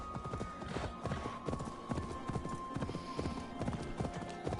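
Horse hooves clip-clop steadily in Assassin's Creed Valhalla, a close, even trotting rhythm running the whole time over faint game ambience, with no talk.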